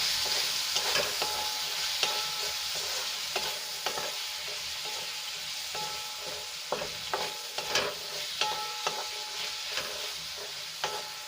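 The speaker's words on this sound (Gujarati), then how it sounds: "એટલે બધું આપણે સરસ રીતે મિક્સ કરીને 1 મિનિટ માટે સાંતળી લઈશું" Masala with half a spoon of garam masala being sautéed in a pan for a homemade pizza topping: a steady close sizzle with repeated scraping stirs of a spoon against the pan, no voices.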